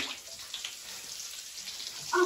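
Bath crackles fizz close in bathwater with fine crackling, a dense sizzle like frying, continuing steadily with a brief louder splash near the end.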